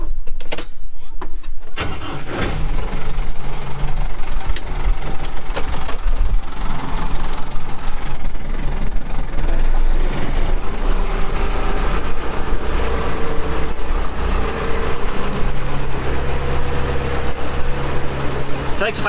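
A small tractor engine runs steadily close by, a constant rumbling drone that starts abruptly and continues throughout.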